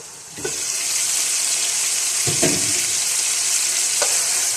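Chicken sizzles steadily in a covered pan, a constant bright frying hiss with a few soft knocks as the pieces are turned over.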